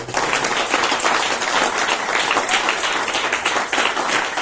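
A congregation at a Sunday church service applauds, producing a dense, continuous wash of clapping that stays loud and even from start to finish.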